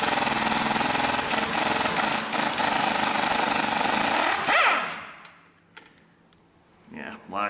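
An impact wrench spins 12-point bolts off a Ford F-150 during a fuel pump replacement, a loud continuous buzzing rattle that stops abruptly, leaving quiet room noise and faint talk.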